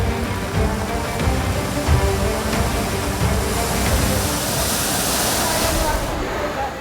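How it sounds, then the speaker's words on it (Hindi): Flooded drains roar during heavy Delhi rain, a dense, continuous rushing of water that stays loud and close for the whole stretch. "दहाड़ मारते नाले"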